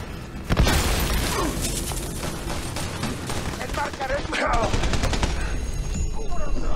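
A frag grenade bursts with a heavy boom in the co-op shooter Army of Two: The Devil's Cartel, followed by continuous rattling automatic gunfire through the rest of the firefight.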